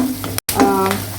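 Curry leaves sizzle in hot oil for a homemade tuna pickle: a steady, close crackling hiss that cuts out for a split second, then resumes with a faint voice underneath.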